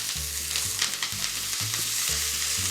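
Butter and a cracked garlic clove hit hot oil in a pan beside a cooking steak, crackling and sputtering continuously with sharp pops scattered through a steady sizzle, close and loud, with a low rhythmic hum underneath.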